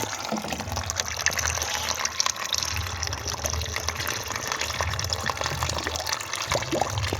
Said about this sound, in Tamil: செடிக்கு தண்ணி ஊற்ற போகிறோம்